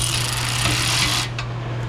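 A bolt is tightened with a ratchet during collision repair work, giving a loud, continuous close-up whirring rasp over a low hum. The sound eases off briefly near the end, and no one speaks.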